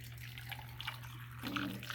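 Hot water poured from a kettle into jars of hot-packed carrots for pressure canning, a steady close splashing trickle that grows fuller and brighter toward the end, with a low hum underneath.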